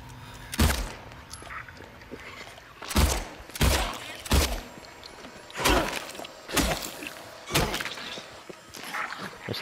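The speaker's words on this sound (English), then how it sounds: "There's three hits and three gunshots." Sharp, loud broadband impacts in scattered bursts, about eight sharp cracks and thuds of gunfire and hits, some in quick pairs, over a low game background, in the video game Silent Hill 2 Remake.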